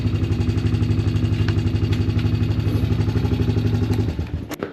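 A Honda Recon ATV engine idles steadily after years of sitting, its close, even low chugging pulse continuing evenly before sputtering and dropping away at the end.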